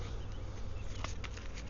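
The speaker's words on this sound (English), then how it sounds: "it looks like the bees are interested in my new microphone" Honey bees buzz right against a microphone in a Wisconsin beekeeping yard, a dense steady drone with brief louder passes as individual bees fly close, and no voices.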